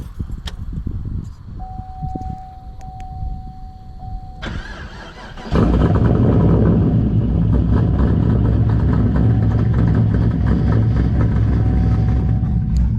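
A Chevrolet Camaro engine, already warm, sits at a quieter idle at first, then jumps into a loud, steady, close-up rumble that holds through the rest.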